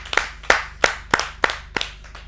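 Rhythmic, evenly spaced claps from an audience at a Hindi poetry gathering, about seven sharp strikes in unison with short gaps between them, fairly close.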